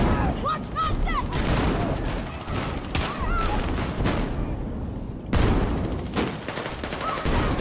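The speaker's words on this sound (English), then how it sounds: "Those RPGs and grenades again" Gunfire and explosions from RPGs and grenades fill a video game battle, with dense, loud bursts of shots and booms overlapping nonstop and voices shouting in the background.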